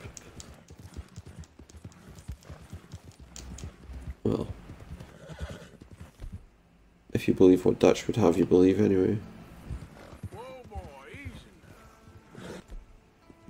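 Horse hooves clip-clopping and a loud whinny from a horse in the Red Dead Redemption video game, with someone talking over much of it and the neigh standing out in the middle.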